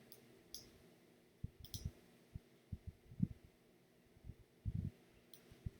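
Computer mouse clicking close by, in soft quick clicks and small clusters of taps scattered through a quiet room with a low background hum.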